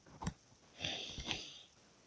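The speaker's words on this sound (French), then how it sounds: "je n'arrête pas de renifler" A few quiet sniffs, a short one followed by two longer drawn-in breaths through the nose, close and soft.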